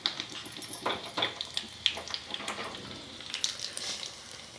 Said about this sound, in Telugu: పచ్చళ్ళు వేసుకుందాం.